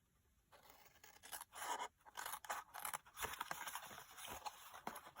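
Scissors snip and scrape through craft material for Christmas decorations, a run of close, brisk cuts with faint rustling between them.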